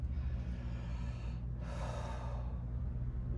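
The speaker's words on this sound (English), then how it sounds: "Take a deep breath." Someone takes one deep breath in a close-miked, airy inhale lasting about a second. It rises over a low, steady background hum.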